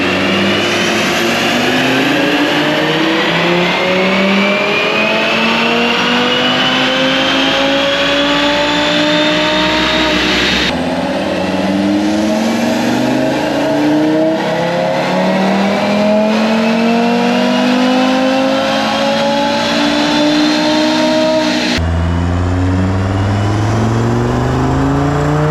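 A tuned 2018 Audi RS3 on a dyno, Unitronic Stage 2 on E85 with downpipe, midpipes, intake, intercooler and turbo inlet, screams through repeated loud rising wide-open-throttle pulls, each climbing in pitch before cutting off.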